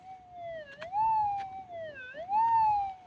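A GPZ 8000 metal detector sounds off over a 78-ounce gold nugget buried about 2.5 feet down, giving a steady tone that swells and dips twice in smooth, siren-like rises over faint background hiss.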